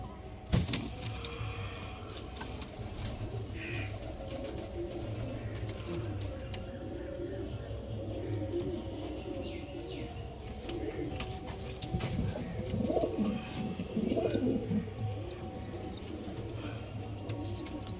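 Pigeons coo steadily and close by for the whole stretch, joined by occasional chirps and brief wing flaps, all over a constant low background hum.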